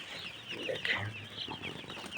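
Hens and newly hatched chicks in a poultry coop at night make soft, close clucks and thin peeps in a brief, quiet run with no speech.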